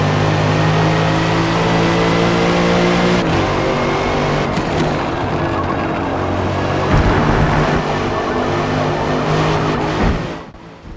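Race car engines roar loudly and steadily through an entire lap of a Forza Motorsport race, with a Viper, a Ferrari and a Bentley on track. Layered engine tones hum and shift with gear changes before the sound drops off abruptly at the end.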